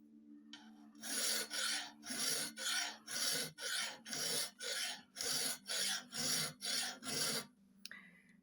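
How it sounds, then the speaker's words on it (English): A hand file rasps across a vintage steel spoon drill in about a dozen steady, evenly spaced strokes, each a loud scraping pass with brief pauses between, close up and alone. "Left hand is dragging, right hand is rotating the file."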